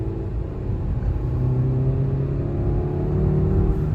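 A Maruti Suzuki Fronx engine accelerates with a close, steady rumble that swells gradually as it revs, with no voices over it.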